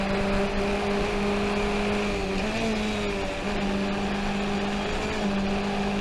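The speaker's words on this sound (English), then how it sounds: "as soon as I hit that curve, the engine revs go up a little bit." A race car's engine drones loudly and continuously from the cockpit through a curve at Summit Point in 2019, its steady tone sagging briefly and then climbing as the revs rise.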